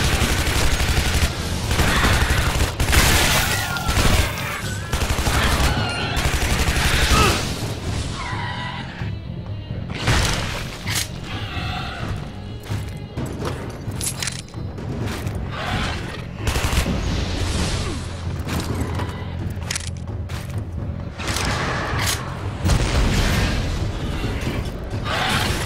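Weapon fire in the Shadow Warrior video game comes as dense bursts of loud, close shots, rapid and clustered, with brief gaps and a mechanical clatter between volleys.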